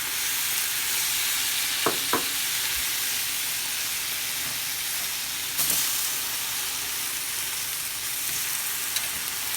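Tofu sizzles steadily in a hot pan with soy sauce, a continuous close frying hiss with a few sharp crackles and pops scattered through, no talking.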